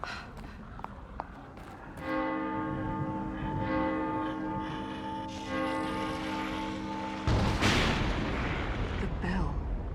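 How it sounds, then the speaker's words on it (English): A church bell rings in The Evil Within, one sustained harmonic toll hanging loud and steady over a dark, rumbling game ambience, followed by a harsher noisy burst near the end. "The bell."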